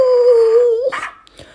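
A puppy gives one loud, drawn-out whining howl, then a few short yips and whimpers, heard up close as a sound effect in a children's story.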